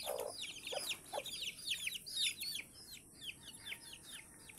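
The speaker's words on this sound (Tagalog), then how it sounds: "Isa manok." Chickens cluck and chirp nearby in a run of short, repeated calls over a quiet farmyard background, the clucks coming in irregular bursts at low to moderate loudness.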